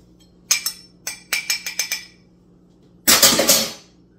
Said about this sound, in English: why am I stirring while I'm talking?